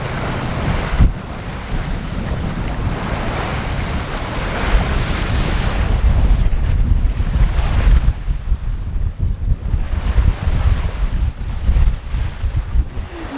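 Strong wind buffets the microphone while waves rush and slosh against a sailboat heading for the Canaries, a loud, continuous roar of surf and gusts with no talk.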